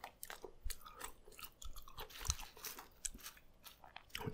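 Close, quiet chewing of McDonald's french fries, a rapid irregular run of soft crunchy bites and mouth sounds lasting several seconds, heard alone without talk.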